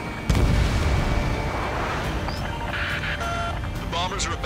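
A missile explodes in Ace Combat 7 with a loud boom right at the start, followed by a sustained roar of jet engines and scattered beeps and cockpit warning tones.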